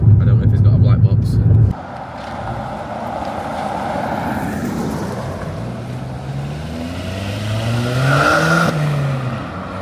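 A Seat Ibiza 1.2 TSI fitted with a resonated cat-back exhaust drives on the road, and its engine hums fairly quietly as it pulls up through the revs. A brief louder burst comes at the start.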